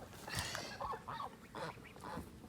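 Geese honk in a short series of nasal calls, several bursts close by with brief gaps between them.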